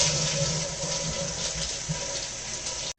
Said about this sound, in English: Now flush.